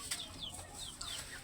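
A chicken clucks in a few short, close calls over a steady background hiss, with no talking.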